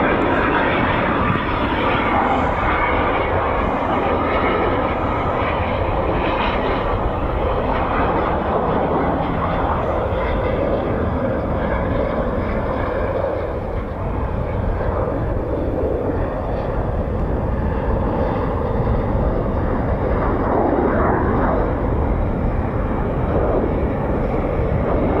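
A Eurofighter Typhoon FGR4 jet flies at RAF Coningsby with a loud, continuous roar that fills the whole stretch and swells slightly as it passes.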